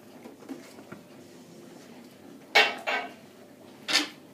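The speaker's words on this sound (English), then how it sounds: "Try and scrape around the bottom so you don't get any burnt bits in the corners" Scraping and stirring in a pan of macaroni cheese sauce, with soft scuffs through the first seconds, then three sharper metallic scrapes of a utensil against the pan near the end, close and fairly quiet.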